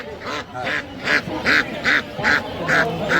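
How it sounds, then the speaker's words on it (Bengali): A group of Chinese ducks at a rural animal market quacks and honks repeatedly in quick, fairly regular bursts, close by and loud, with busy crowd noise underneath. "এটা কী হাঁস এটা চীনা হাঁস"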